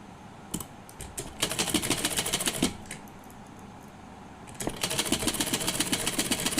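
A sewing machine stitches a half-inch seam on an old saree being turned into a gown. It runs in two rapid, rattling bursts separated by a short pause, close up, with no talking.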